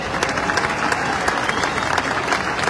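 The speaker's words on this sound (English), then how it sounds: "can I give them a huge round of applause as well" A crowd at Gibraltar's National Day applauds steadily and fairly loudly throughout, with dense overlapping claps forming a continuous wash.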